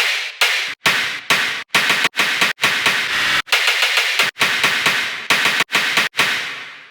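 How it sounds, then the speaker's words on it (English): Heavy tearout dubstep 'gun' sound made from layered synths: loud, harsh, gritty bursts chopped by sharp silent gaps into a stuttering rhythmic pattern, with no voices. "So the gun itself sounds like this at the end."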